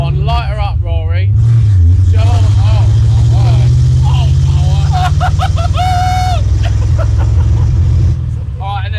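A cheap Ford Mustang with a slight misfire and boggy running idles loudly and steadily throughout, with a low continuous rumble, while people talk over it.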